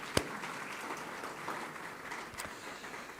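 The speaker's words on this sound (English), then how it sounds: "give our long-standing CMA sponsor, Southern Sun Hotels, a big round of applause" A dense, steady wash of audience applause fills the room at an awards dinner, with a few sharper individual claps standing out against the continuous clapping.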